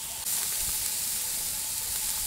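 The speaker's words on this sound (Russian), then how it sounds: "Колбаски хорошо жарятся," Sausages frying on a grill grate give a steady, close sizzle with hiss and faint crackles that holds evenly throughout, and no one speaks.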